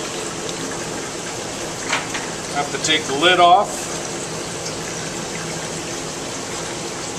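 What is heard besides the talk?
water flowing from pumps into egg basket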